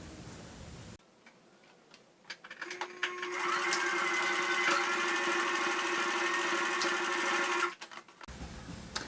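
A sewing machine runs steadily for several seconds, stitching a new seam on a miniskirt waistband, its fast rhythmic ticking close and clear and starting up after a few short bursts before stopping.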